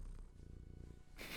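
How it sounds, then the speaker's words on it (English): A cat purrs steadily and softly close by, a low rhythmic rumble heard alone before a brief burst of noise at the end. "You can probably hear her purring right now."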